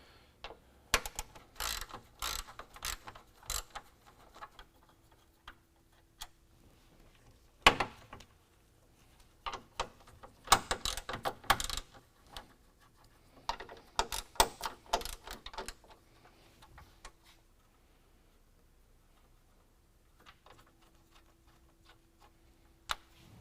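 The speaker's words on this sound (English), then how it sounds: "we're going to take a 10mm socket and we're going to remove our 4 bolts that are going to hold our grill on" A ratchet with a 10mm socket loosens the four black grille bolts on a 2019 Chevy Silverado 1500, with close, crisp bursts of rapid clicking separated by quiet pauses.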